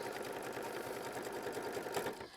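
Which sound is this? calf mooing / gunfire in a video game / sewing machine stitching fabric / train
sewing machine stitching fabric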